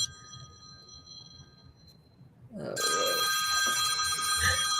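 A phone rings loudly and steadily with a bright, repeating electronic tone that starts abruptly partway through, following a quieter stretch of faint background noise.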